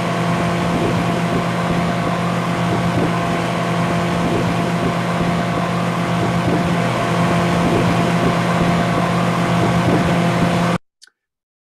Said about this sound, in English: and then you get on a boat.